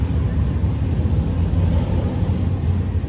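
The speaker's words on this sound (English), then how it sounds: "that's a C-130." Deep, steady propeller rumble of a C-130 military transport plane passing overhead near an air force base, loud and continuous with no other sounds.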